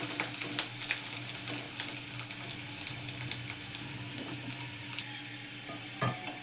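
Kurdaya frying in oil, a constant crackling sizzle with scattered stronger pops and a brief knock near the end, moderately quiet and close, without speech.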